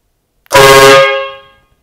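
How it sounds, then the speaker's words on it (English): A remote-controlled, battery-powered 150 dB train air horn gives one very loud, close blast of about a second, a brassy chord that cuts in sharply and fades out quickly. "In response to dogs bark, my response is horns honk."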